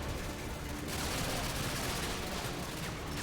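Weapon fire from Call of Duty: Modern Warfare 2 during a speedrun, a dense unbroken rattle of gunfire and blasts that stays loud throughout the clip.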